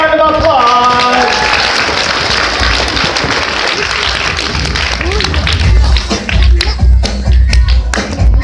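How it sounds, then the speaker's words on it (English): Applause for a volunteer at a magic show, starting as busy clapping from the audience under voices and tapering into scattered claps and shuffling as the room settles. "Give her a big round of applause."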